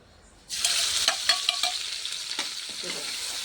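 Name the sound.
crushed cumin, green chilli and garlic sizzling in hot oil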